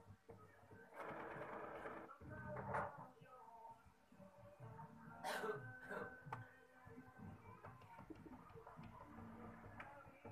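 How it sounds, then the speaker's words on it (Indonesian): A Brother inkjet printer runs its automatic ink cleaning cycle, giving quiet mechanical whirring and rhythmic clicking bursts from the print head pump, faint and close, with a few soft throat sounds nearby. "printer akan membersihkan otomatis tintanya"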